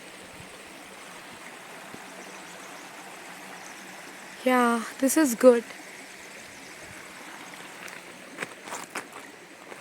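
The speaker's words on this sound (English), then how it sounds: "And the water stream." A mountain stream along a hiking trail flows with a steady, even rush in the background, while a person briefly speaks over it midway.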